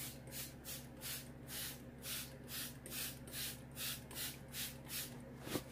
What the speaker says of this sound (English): So I'm just gonna spray this, soak it.